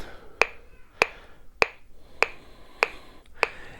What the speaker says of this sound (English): So it has a light clicker in there, right?